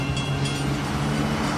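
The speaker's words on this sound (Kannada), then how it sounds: "ಹಾಗೆ ಟ್ರೈನ್ ಇನ್ನೇನು ಬಂದೇ ಬಿಡ್ತು." A train pulls in during a horror story, its steady low rumble and droning wheel noise filling the whole short stretch at close, even loudness with no voices over it.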